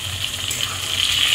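Pieces of parshe fish frying in hot oil, a steady close hiss that grows slightly louder toward the end, with no voices.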